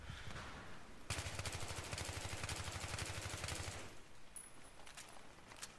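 An M4 rifle in Battlefield 3 fires a long rapid automatic burst of evenly spaced loud shots that stops abruptly after about three seconds, with quieter scattered gunfire before and after.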